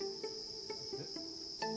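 Crickets chirp in a rearing box at a cricket farm, a steady high trill repeated in short bursts several times over, fairly close and moderately loud, with no voices.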